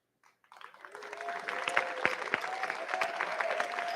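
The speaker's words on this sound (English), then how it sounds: "we can then acknowledge you with a round of applause" Applause from the audience at a high school graduation ceremony, building from silence into steady, dense clapping that fills the hall and holds through to the end.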